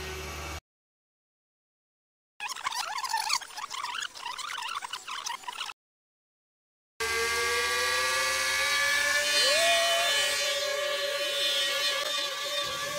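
A homemade tiltrotor VTOL RC plane with four tilting motors runs near the microphone at about 60% throttle, its high whine interrupted by two silent gaps before a steady, louder stretch as the shaking craft fails to lift off.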